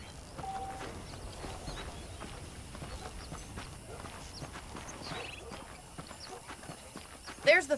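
Quiet, steady clip-clop of horse hooves walking along in the video game Red Dead Redemption, continuing throughout at a moderate pace, fairly faint with a brief louder sound at the end.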